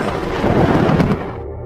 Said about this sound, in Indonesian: Bahkan saat suara petir terus berlanjut, Dewart tetap tidak mendengar apa-apa.